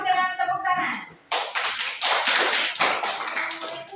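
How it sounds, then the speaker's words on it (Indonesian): A group of children in a classroom claps together in a burst of applause, close and lively, after a brief spoken line. "Kita sambut dengan tepuk tangan."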